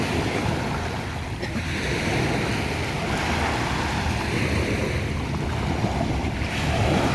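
Sea at a beach in Tubay, Agusan del Norte, heard as a steady broadband roar of surf mixed with heavy wind buffeting the microphone, continuous throughout with no voices.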